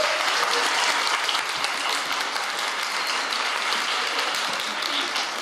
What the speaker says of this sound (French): Vous l'applaudir.